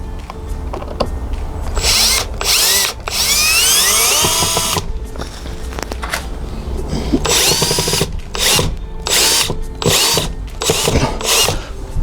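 A power drill whines and drives screws into a Ring doorbell mount. It runs in several loud, close bursts, some of them rising in pitch, with short gaps and a little handling noise between them.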